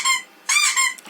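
A novelty whistle effect played through the horn sound system of a customized Moskvich demo car, two bright harmonic whistle bursts, loud and close, with a short gap between them.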